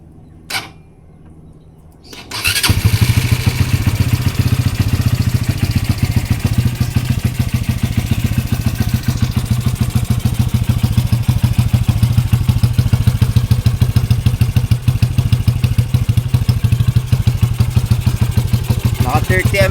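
A Supremo 222cc motorcycle engine fitted with a silent killer exhaust and a 30mm carburetor starts after brief quiet, then runs steadily and loudly up close with a deep, continuous low rumble and the exhaust's pulsing throb.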